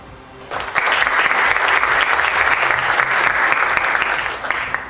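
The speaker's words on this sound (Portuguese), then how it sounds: "Uma salva de palmas." An audience at a round-table event gives a burst of steady, dense applause that swells quickly, holds evenly for several seconds and then starts to fade.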